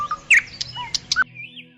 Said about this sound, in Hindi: पास के पेड़ से हल्की चहचहाहट सुनाई देती है।